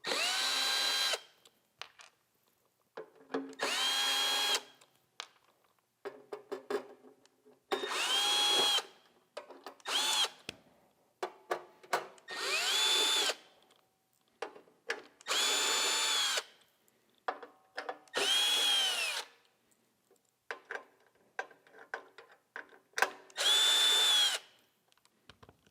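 Power driver removing the pulley cover screws on a MAG-8200 sharpener: about nine short whirring bursts of a few seconds each, separated by quiet pauses and small handling clicks, close and fairly soft.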